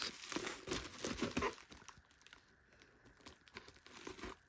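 Close, quiet crinkling and tearing of plastic packaging as it is cut with scissors, with rustling snips in uneven bursts.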